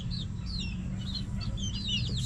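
A hen gives a few soft clucks and chirpy calls, faint and close, over a low steady background hum.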